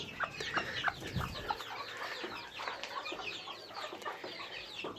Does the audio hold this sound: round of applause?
no